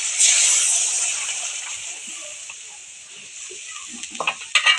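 Boiled dal poured into frying tomatoes in a pan sets off a loud hissing sizzle that slowly settles, followed by a few light clinks and splashes near the end.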